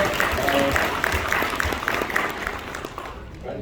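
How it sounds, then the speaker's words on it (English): An audience applauds to welcome Mr. Amal Gupta onto the stage, a steady wash of clapping that fills the clip, with voices mixed in. "Please give Mr. Amal Gupta a big round of applause."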